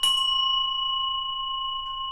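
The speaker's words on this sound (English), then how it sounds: "Let's hit this bell here." One struck bell rung during a card-reading session, a sharp strike followed by a clear pure ring with two steady tones that sustains close and loud and fades only slightly over two seconds.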